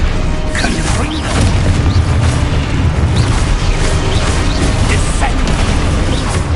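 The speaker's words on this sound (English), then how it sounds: "Confringo!" Confringo explosion spell cast in the Hogwarts Legacy video game, a dense continuous rumble of booms and crashing impacts with mechanical clatter, loud and unbroken.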